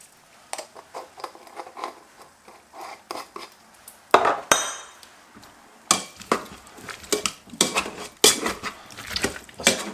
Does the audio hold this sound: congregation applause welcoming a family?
no